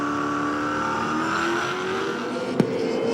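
V8 Supercars from 2007 launching at the race start at Hidden Valley Raceway, engines rising together in a building roar, then a sharp brief crack near the end.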